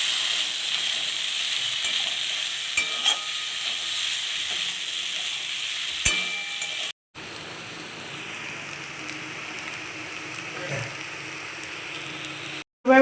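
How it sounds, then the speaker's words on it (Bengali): Spice paste is stirred into potato pasta in a hot kadai, giving a soft, steady sizzle with occasional light scraping clicks of the spoon and a brief break midway. "এবার নেড়ে চেড়ে নিচ্ছি মশলা দিয়ে।"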